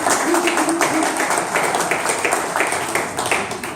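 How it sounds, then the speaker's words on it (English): Applause from people at a 1 Million Cups meeting in Daytona Beach, a dense patter of clapping mixed with some voices, steady throughout and fairly loud. "Organizers, please raise your hands. Round of applause,"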